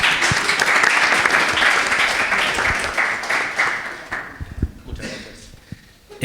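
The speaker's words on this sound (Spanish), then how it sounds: "Un aplauso para él, por favor, un aplauso que se lo haga." An audience claps for a guest at a book presentation at the Casa de Galicia, loud sustained applause that thins into scattered individual claps and fades toward the end.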